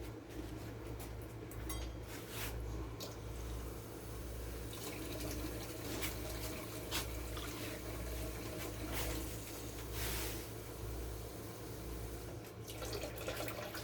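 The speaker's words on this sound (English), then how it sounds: "So let me go ahead and get my water in here." Three cups of water poured from a tap into a cooking pot while making butternut squash bisque, a steady close rush and splash running continuously with a low hum beneath and no talking.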